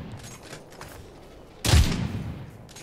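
Gunfire in a free-to-play third-person PvP/PvE shooter game, quieter distant shots and then a sudden loud burst of shooting partway through that stays heavy as it fades.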